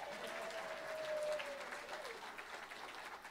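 A church congregation applauds during a Thanksgiving service, a soft, steady wash of many hands clapping at a distance, with a faint sustained tone running beneath the first part.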